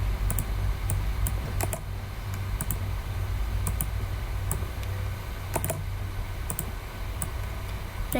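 Computer keyboard typing, with scattered keystroke clicks coming in small bursts over a steady low hum, close and fairly quiet, with no talking.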